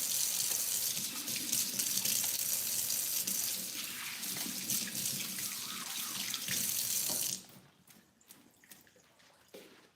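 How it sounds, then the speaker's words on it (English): A kitchen tap runs at full flow while hands are washed under it before checking on a chocolate cake. The gushing water is loud and steady for most of the time, then cuts off and leaves quiet dripping. "let me wash my hands so I can check this cake"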